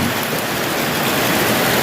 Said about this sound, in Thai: ฝนก็เริ่มมาอีกระลอกแล้วครับ